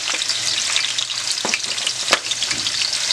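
Garlic fries in hot oil with a bright, steady sizzle, broken by a few sharp spatters and scraping stirs, close and fairly loud, with no talking.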